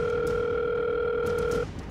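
A telephone line rings out as a steady, sustained electronic tone that holds evenly for over a second and a half, then cuts off abruptly, leaving low background noise.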